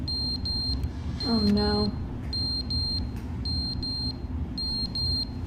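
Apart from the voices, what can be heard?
smoke alarm beeping in video game The Stanley Parable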